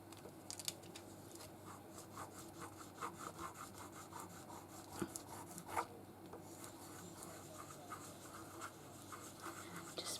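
A tool rubs round and round over a transfer on a Christmas sign, making a quiet, steady, scratchy rasping that continues throughout with small irregular scrapes.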